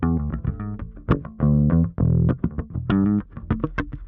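An electric bass runs through an Origin Effects BassRig Super Vintage with the ultra high switch on. It plays a punchy, slightly gritty riff of short plucked notes and a few sustained ones, loud and close with no talking.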